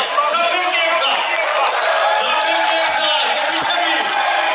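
A large crowd at Hafiz Saad Hussain Rizvi's political rally keeps up a dense, steady roar of clapping and cheering that stays at full volume throughout, with no pauses.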